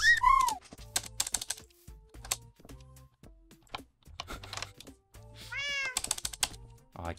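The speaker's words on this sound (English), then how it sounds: "Stupid cat." A cat meows twice in a video game, a high rising-and-falling call near the start and another near the end, over bursts of keyboard clicking and low thumps.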